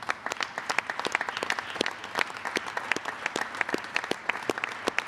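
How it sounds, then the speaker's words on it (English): Audience applause at a Pennsylvania state economic development event: a scattered crowd claps with sharp, distinct hand slaps over a soft background murmur, moderately distant and fairly quiet. "Let's give these folks a round of applause."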